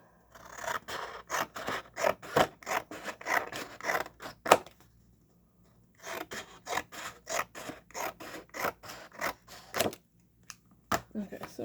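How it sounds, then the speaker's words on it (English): Scissors snip through thin black craft material into small strips, making rapid, crisp close-up cuts in two bursts separated by a short pause, with faint rustling between the snips. "all I'm doing is just cutting small strips."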